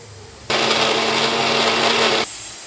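A mixer grinder grinds three tomatoes for an egg gravy, starting abruptly as a loud, steady, high-pitched whirring roar that holds for nearly two seconds and then cuts off sharply.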